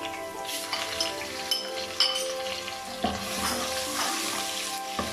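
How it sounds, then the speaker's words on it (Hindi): Ginger garlic paste sizzles loudly in a pan of fried onions for a curry pakora dish, a steady bright frying hiss with occasional light clinks of a utensil against the pan, no talking. "2 मिनट तक जो हमारा प्याज है हमने इसको भून लिया। अब इसमें अदरक लहसुन पेस्ट शामिल करेंगे।"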